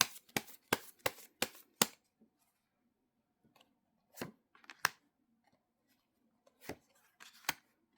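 Tarot cards are shuffled and laid out in a quick run of six crisp riffles and snaps at the start, then a few scattered slaps and shuffles with quiet pauses between, close and fairly loud with no talking.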